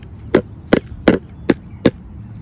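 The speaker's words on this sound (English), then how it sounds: "I did the sticks with a cube made out of wood, and at the bottom is a simple stick, and this is the sound it makes" A homemade percussion instrument, a wooden cube struck with a simple stick, gives five sharp hollow wooden knocks at a slow, even pace, close and clear with nothing else behind them.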